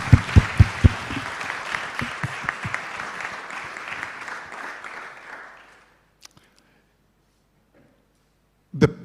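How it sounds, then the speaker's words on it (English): A graduation ceremony audience claps, loud close hand claps at first over a dense crowd wash that gradually thins and fades out by about six seconds, leaving near silence before a few sharp handling noises at the end. "I'd like everybody to give you a round of applause."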